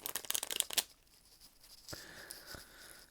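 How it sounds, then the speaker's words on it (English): Tarot cards shuffled by hand, a quick flurry of close, crisp riffling snaps at the start, then quieter scattered rustles and slides of the deck. "so I'm going to start the shuffle."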